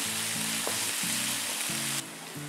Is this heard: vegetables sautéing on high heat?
yes